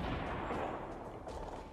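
Gunfire in the video game Fortnite Battle Royale comes as a dense, continuous barrage of loud, close shots and blasts that blur together throughout.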